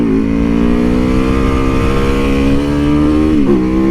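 Motorcycle engine on a chilly winter ride, loud and close, its pitch climbing steadily as it accelerates, with a brief dip near the end before pulling again.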